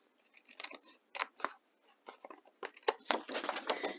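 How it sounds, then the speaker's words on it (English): Scissors trim a thin strip of cardstock for a craft background, giving quick, close snips and papery rustles in short bursts with uneven gaps, no voices. "I just need to trim just a tiny bit right here."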